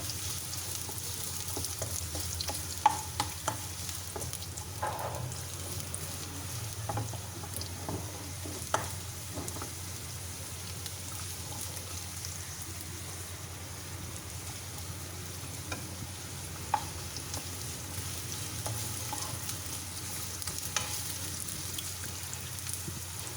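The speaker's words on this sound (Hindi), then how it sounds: "इसको फ्राई करेंगे, हल्की सी फ्राई करेंगे इसको।" Gentle frying in a pan for a healthy rice dish: a quiet continuous sizzle with occasional light scrapes and taps of a stirring spoon, no voices.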